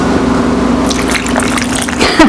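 Water poured into a food processor already holding avocado, vanilla and raw cacao, a steady close splashing trickle filling the bowl for about two seconds.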